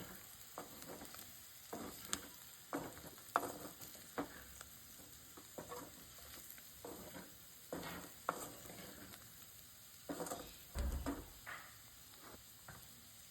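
Chicken pieces fry with garam masala in a home kitchen pan, a soft steady sizzle broken by frequent close scraping stirs at an irregular pace.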